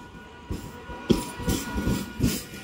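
A local train pulls into a station near Kolkata with a low rumble, a steady hiss and several heavy rhythmic clacks of the wheels rolling past close by.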